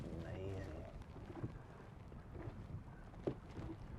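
Wind buffets a boat on choppy water, with waves slapping the hull and a rough, gusty rumble throughout; speech is faintly present.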